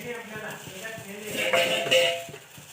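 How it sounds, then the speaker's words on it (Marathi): A spoon stirs salt into grated potato in a pan, giving soft scrapes and a few metallic clinks against the pan, close and moderately loud. "चवीसाठी मीठ व्यवस्थित मिक्स"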